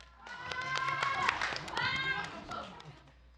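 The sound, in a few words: audience applause welcoming a school team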